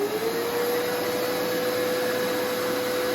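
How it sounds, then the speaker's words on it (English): A vacuum cleaner powered through an inverter runs at a steady loud whine with a constant motor hum, alone and without speech. "Now we'll turn the vacuum cleaner on."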